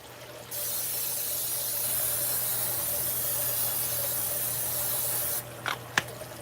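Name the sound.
spraying cooking spray on a pancake griddle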